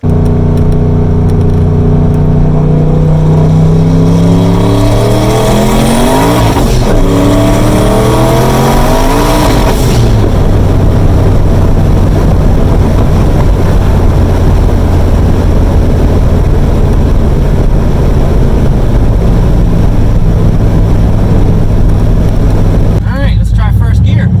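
A manual-transmission car with a broken third gear accelerates hard: a loud engine roar climbs in pitch, drops at a shift, climbs again through the next gear, then settles into a steady, loud drone up close.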